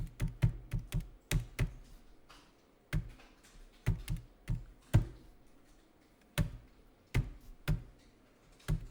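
Computer keyboard keys clatter in short irregular bursts of taps, with pauses and single sharper strokes like Enter being pressed, close and fairly quiet, no talking.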